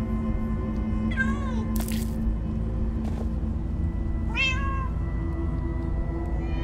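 Several cats meow in a video game, with two clear, drawn-out meows separated by a few seconds, set over a steady low ambient hum and a brief noisy burst in between.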